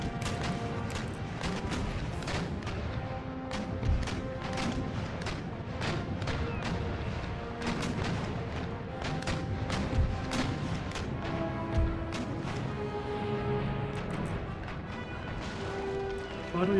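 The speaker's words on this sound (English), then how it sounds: "Too many targets, lots of people shooting at you." Repeated ship cannon broadsides in an Empire: Total War naval battle, with booming shots and crashing hits in a steady, overlapping barrage that runs throughout.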